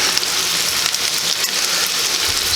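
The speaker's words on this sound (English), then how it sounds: "So basically, the Hoecakes mean that they're fried" Hoecakes fry in a pan with a steady, even sizzle and crackle, close up and uninterrupted throughout.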